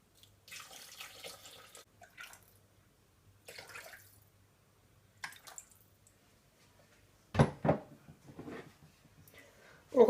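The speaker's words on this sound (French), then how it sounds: "nous allons venir placer dans le robot un demi-litre d'eau" Half a litre of water splashes into a Thermomix bowl in short, intermittent pours, fairly close and moderate in level, with quiet gaps between bursts.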